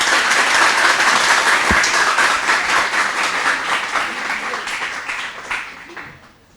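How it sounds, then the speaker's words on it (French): Audience applause for Lycée Roi Henri Christophe at a school quiz competition, loud sustained clapping from a full room that gradually fades out over about six seconds. "Je vous demande de l'applaudir parce que c'est sa première participation."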